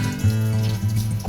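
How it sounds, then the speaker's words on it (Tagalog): Water pouring from a tap into a cooking pot for boiling pork and tofu, a steady close splashing stream with a slight gurgle, alone without talk. "Lagyan muna natin ng konting tubig."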